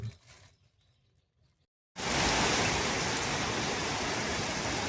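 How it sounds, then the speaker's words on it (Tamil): Heavy rain pours outside in a sudden, loud, steady roar after a quiet moment, continuing without pause to the end. "வெளியில் நல்ல சோன மழை பெய்யுது"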